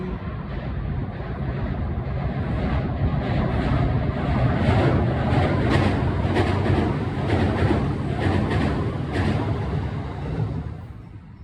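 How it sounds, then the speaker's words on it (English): A train rumbles past close by, a steady loud roar with rhythmic clacking of wheels over rail joints, building and fading slightly. "Here comes the train."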